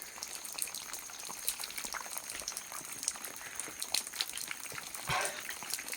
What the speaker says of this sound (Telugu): పైనుంచి డ్రాప్స్ ఎక్కువ పడడం వల్ల తాగడానికి అయితే వీలు కావట్లేదు